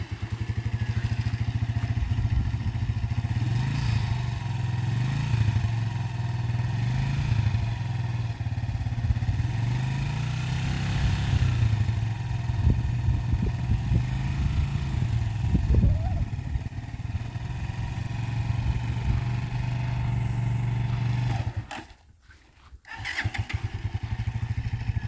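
A motorcycle held back by a throttle limiter is ridden during a beginner's riding lesson, its engine droning steadily and rising and falling in revs at close range, then cutting out briefly with a thump near the end.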